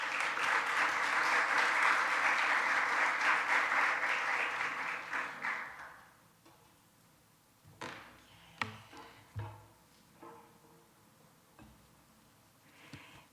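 Audience applause welcoming lecturer Dr. Jane Hong at a talk on racial reconciliation, loud and sustained for about six seconds before dying away into scattered room noises and faint shuffles.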